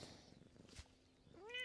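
A pet cat meows close by indoors, one clear drawn-out meow rising at the end after some quieter low sounds, alone without talk.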